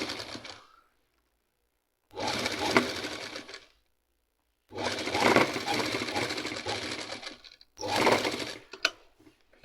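Sewing machine stitching the inner seam of a closed kameez, running in three long bursts of steady rapid whirring with short pauses between, close and fairly loud, no talking.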